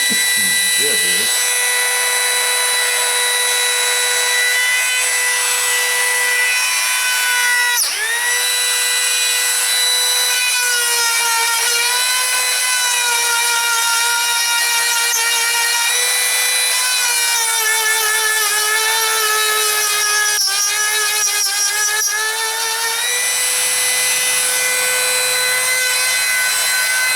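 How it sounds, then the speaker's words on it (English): An old Dremel rotary tool fitted with a 1/8 inch bit drills a hole through wood, a steady high-pitched whine that holds for the whole stretch, dipping and wavering in pitch as the bit loads and frees up, close and loud. "Got my old Dremel here. Just got an 1/8"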